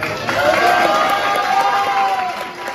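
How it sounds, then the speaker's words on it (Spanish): An audience at a cueca world championship competition night in Pamplona cheers and applauds, a loud, close crowd roar with whoops and clapping blended together, sustained throughout. "yo quiero que el aplauso sea para ella, para Evelyn."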